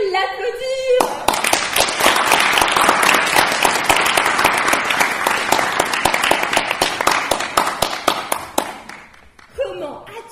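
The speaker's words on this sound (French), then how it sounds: "Je crois qu'on peut l'applaudir." Spectators at a French theatre comedy performance burst into loud, close applause, a thick rapid clatter of hands lasting around eight seconds before thinning out, with a voice speaking just before it starts and again as it fades.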